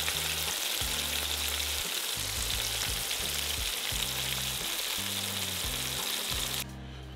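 Crappie fillets fry in a hot pan with a loud, steady sizzle and crackle throughout, close up, with low thumps underneath, then the sizzle drops away sharply near the end.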